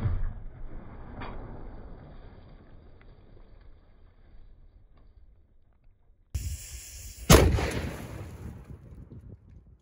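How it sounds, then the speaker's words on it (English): A cannon fires grapeshot of half-inch ball bearings at a car: one sharp, loud blast near the end, after a quiet outdoor lead-in and a short rise of noise, with the report ringing off briefly. "blast the side with the grape shot"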